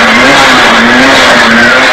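A Peugeot 106 S16 rally car on a hairpin stage, its engine droning loud and close with a steady high note and a slight tire scrub as it pulls away out of the bend.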